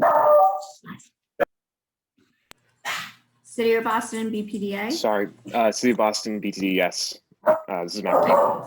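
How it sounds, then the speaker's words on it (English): A dog barks a few times at a distance during a remote public meeting, with short barks early on before people talk over the connection. "Sorry about the dog."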